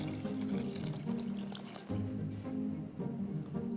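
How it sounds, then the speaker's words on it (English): Vegetable broth pours into a pot of tomatoes, vegetables and spices for minestrone soup, a steady close splashing flow with a brief dip partway through. "We will add our veggie broth."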